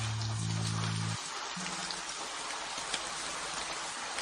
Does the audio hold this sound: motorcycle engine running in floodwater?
no